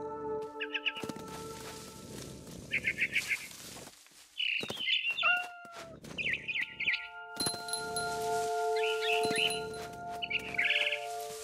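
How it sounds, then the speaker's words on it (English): Repeated barn swallow chirps and tweets in short bursts in the game What Remains of Edith Finch, over a busy background with tonal hums and clicks, fairly close and clear. "Then I heard chirping outside my window. It was a barn swallow going back to her nest."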